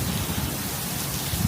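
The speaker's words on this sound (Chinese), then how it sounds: "外面正在下雨" Heavy rainstorm pouring down outside a Maldives overwater villa, a steady dense wash of rain noise with no break, loud and continuous.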